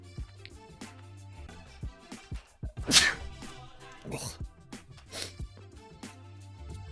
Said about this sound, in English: I have to sneeze, sorry.